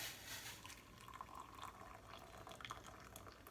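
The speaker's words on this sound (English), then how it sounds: "Hopefully it doesn't break when I put the hot water in there" Hot water trickling and splashing into a glass, faint and continuous, with a light filling gurgle and small drips near the end.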